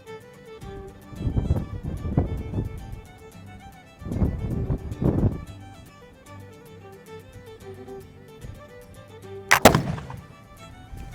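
Single sharp blast from a 1766 Charleville smooth bore musket firing with a hang fire, a loud broadband crack near the end, preceded by outdoor wind and handling noise.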